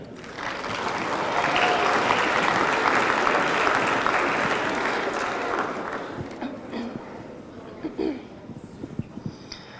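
Sustained audience applause at a concert, broad and steady for about six seconds before thinning into scattered claps and a few faint voices as it dies away.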